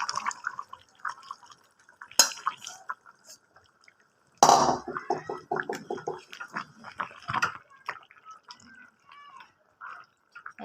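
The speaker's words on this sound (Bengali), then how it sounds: "সেই জলটা আমি এখানে দিয়ে দিচ্ছি।" Hot water is poured into a pot of jackfruit chicken curry, giving close, intermittent splashing, trickling and bubbling with gurgles and drips that come and go in uneven bursts.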